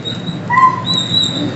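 A big dog gives a short, close whimpering yip with a high, tonal whine, brief and fairly loud against a quiet background.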